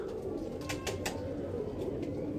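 Soft pigeon cooing close by, a low throaty murmur with a few faint chirps over steady background noise.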